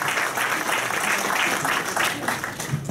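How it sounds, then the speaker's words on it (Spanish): Audience applause for Dr. Cáceres after her talk at a technology seminar on solutions to cold spells, a steady, moderately loud wash of clapping that continues evenly throughout. "los aplausos para la doctora Cáceres."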